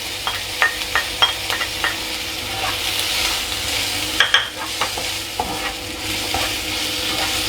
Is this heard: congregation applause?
no